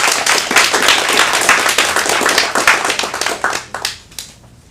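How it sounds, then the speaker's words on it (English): Applause from a small audience at an adult acting class comedy showcase, a dense burst of clapping that holds steady for about four seconds and then thins out into a few scattered claps. "Let's get a round of applause."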